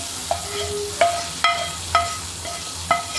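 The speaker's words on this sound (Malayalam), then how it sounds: "ഇനി നമുക്കിത് നമ്മുടെ മീൻകറിയിലേക്ക് താളിച്ചൊഴിക്കാം" A hot tempering of fried onion and chilli is poured into mackerel curry cooked with mango and ground coconut, giving a soft sizzle with light stirring and spoon taps, close by and without talk.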